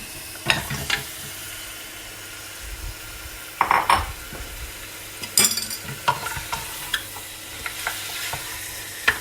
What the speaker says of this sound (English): And now we'll have to cook this mutton in this oil, which is already infused with the spices